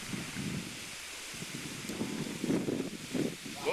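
Gusty wind blows across an outdoor disc golf course, a steady rushing noise with buffeting swells and rustle, picked up close to the microphone.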